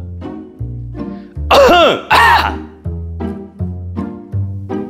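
A person coughs and clears their throat repeatedly in a rhythmic, close and loud sequence of short bursts, with two especially harsh, forceful coughs in the middle and no speech.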